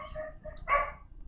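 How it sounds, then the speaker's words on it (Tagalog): Dogs bark in short, sharp bursts from a moderate distance, with one louder yap standing out against quiet background noise. "Rinig kong ingay ng mga aso."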